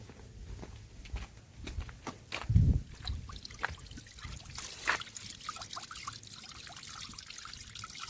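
Water trickles and splashes over a freshly picked organic papaya as it is washed outdoors, a soft running dribble with one fuller splash partway through and faint handling noises, and no voices.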